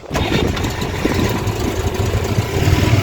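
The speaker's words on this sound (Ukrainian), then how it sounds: "Заводимо без педалі газу." A Moskvich 2140 car engine started without pressing the gas pedal cranks briefly, catches and settles into a steady, rumbling idle, close and alone.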